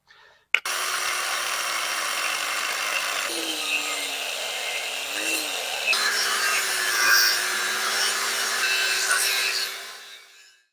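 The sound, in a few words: cutoff wheel cutting old rotten wood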